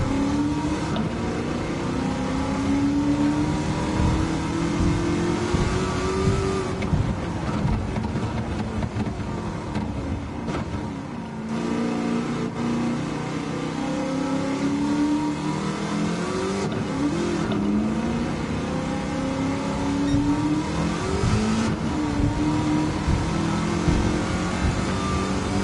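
Game engine of an LS7-swapped DeLorean in Gran Turismo 7 revving hard and continuously at close range, rising and falling through the gears with some tire squeal.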